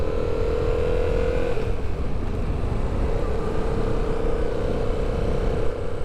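A 2019 Yamaha XSR700 motorcycle accelerating hard with its front wheel lifted, giving a steady engine drone that climbs in pitch, dips, then rises again under heavy wind rush, close and continuous.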